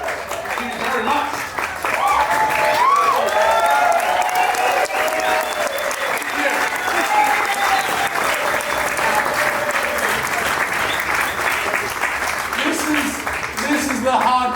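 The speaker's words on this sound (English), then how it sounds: "I've juggled these 5 balls, and you've all given me a big round of applause." Audience at a cabaret show during a mardi gras festival applauding a juggler's five-ball trick, sustained loud clapping and crowd noise filling the whole stretch, with a voice speaking over it.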